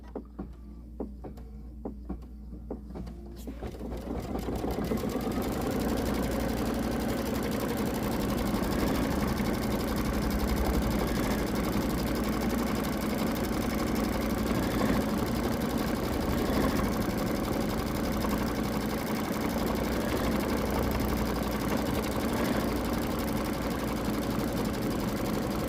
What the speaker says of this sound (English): so now we're going to stitch the placement line for our egg.